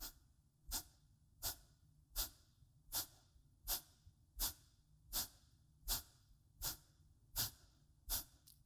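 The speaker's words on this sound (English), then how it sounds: "Exhale, exhale, exhale, exhale." Deep forceful exhales during a yoga breathing practice, eleven sharp breaths at a steady rhythm of roughly one every 0.7 seconds, close and clear over a low background hum.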